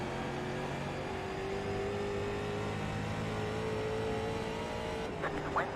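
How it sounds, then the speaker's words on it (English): Tires squealing on a Rookie Street Stock race car in iRacing at USA International Speedway, a thin sustained whine over a steady engine drone throughout, with a brief sharper burst near the end. "You can hear the wheels squealing."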